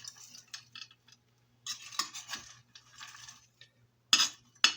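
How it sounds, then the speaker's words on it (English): Dry cereal party mix stirred by hand in a container, pieces clattering and rattling in a few separate bursts with short pauses between, close and fairly loud. "considering all the bits are little pieces of cereal, it's stirring"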